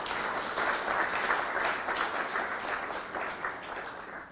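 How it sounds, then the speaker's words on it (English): Audience applause at a Kenyan political gathering honoring former President Mwai Kibaki, a sustained steady clatter of many hands filling the whole stretch at moderate level, with no voices standing out. "I think you clap for him again."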